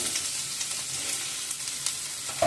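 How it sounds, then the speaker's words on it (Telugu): Potato pieces fry with curry leaves and chilies in a pan, giving a steady close hiss of sizzling oil with a few faint stirring scrapes. "కట్ చేసి పెట్టుకున్న ఆలు ముక్కలు వేసి ఫ్రై చేసేసాను"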